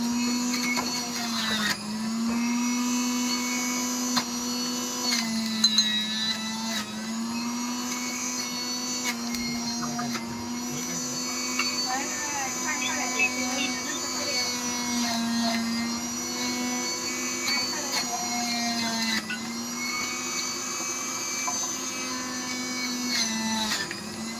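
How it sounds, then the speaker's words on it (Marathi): An Inova juicer machine running while extracting fruit juice, a loud continuous motor whine with a steady pitch and slight fluctuations, heard close throughout. "इनोवा कंपनीचा ज्युसर आहे."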